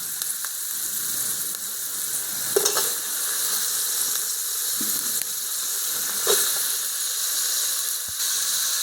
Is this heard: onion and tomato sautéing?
yes